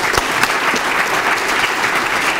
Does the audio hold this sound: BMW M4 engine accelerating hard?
no